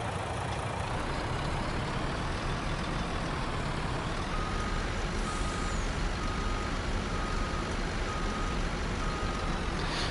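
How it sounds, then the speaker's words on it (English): A truck reversing in the Farming Simulator 19 video game, a steady, loud engine drone with a faint, thin beeping tone running through it and no speech. "because we've got to back the other truck out."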